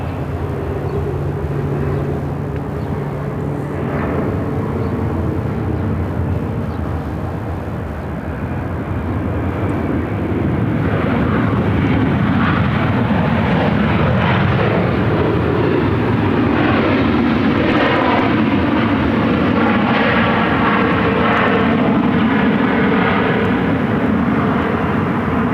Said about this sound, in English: United Flight 511 coming in from Chicago on a